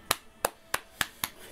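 A short run of hand claps opens things, five sharp, evenly spaced claps at a moderate pace, crisp and close, with no voices over them.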